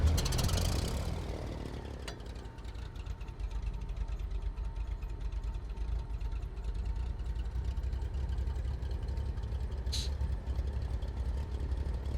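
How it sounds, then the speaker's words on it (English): At the Sun N Fun fly-in, an aircraft engine starts and settles into a steady, moderately loud running drone, with a brief sharp tone near the end and faint voices in the background. "You guys get the full experience of an engine start here."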